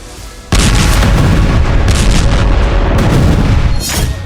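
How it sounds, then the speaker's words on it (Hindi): Israeli airstrike on the Al Fakhoora school in the Gaza Strip, a sudden loud boom followed by a long, dense roar of rumbling blast noise and debris that stays heavy for several seconds. "इजरायली सेना के हवाई हमलों ने गाजा पट्टी के अल फकरून स्कूल को हिला दिया"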